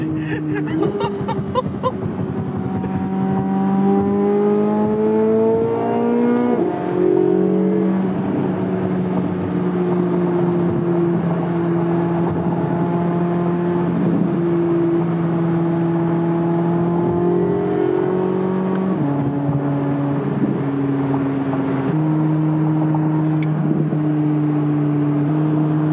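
A Corvette C8 Z06 engine screams loud and high from inside the cabin on a ride-along, climbing through several gears with brief dips at each shift, while occupants laugh and chuckle under the roar.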